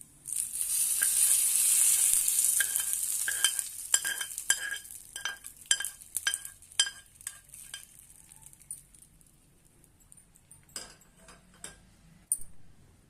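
Hot tempering of oil with red chilli and curry leaves is poured over brinjal chutney, giving a loud burst of sizzling that fades into scattered crackles and ticks of spoon on dish.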